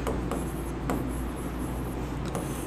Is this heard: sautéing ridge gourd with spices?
no